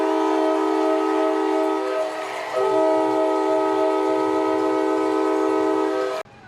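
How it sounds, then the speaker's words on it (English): Stadium train horn blasting at a minor-league Railroaders baseball game after a game-ending strikeout: one loud, sustained multi-tone blare lasting about six seconds with a brief dip midway, then cutting off abruptly. "You can sound the horn."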